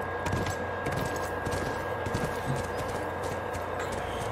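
A horse's hooves clip-clop in The Last of Us video game, with steady, rapid footfalls over a dense background rumble, moderately loud and without talk.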